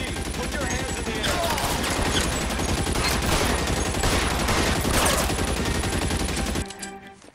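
A dense, continuous volley of gunfire crackles loudly and close for several seconds, rapid overlapping shots blending into a sustained roar before cutting off abruptly.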